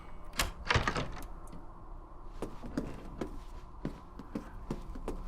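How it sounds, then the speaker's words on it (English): A door opening in the Resident Evil Maiden game, heard as a cluster of heavy clunks and creaks followed by several sharper knocks and taps spaced over a few seconds against a quiet, dim background. "I'm gonna place the eyeball here, and I'm gonna be able to open the door."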